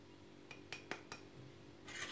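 Metal spoon clinking against a bowl while spoonfuls of cornstarch go in for a caramel cake cream, four quick faint chinks followed by a soft scrape.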